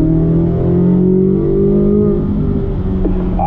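A Chevrolet Corvette Z06 engine pulls hard under steady throttle on a 1.5-mile race track, a loud continuous roar with layered harmonics that climbs slightly and holds close throughout.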